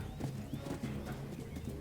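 Horse hooves clip-clopping in the Western video game Call of Juarez, a steady quiet trotting rhythm under a low ambient game background.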